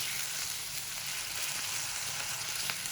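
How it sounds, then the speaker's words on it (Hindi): Meat frying in a hot pan, a dense steady hiss of sizzling oil heard up close and unbroken throughout, with no voices. "इसको अच्छे से भून लेंगे"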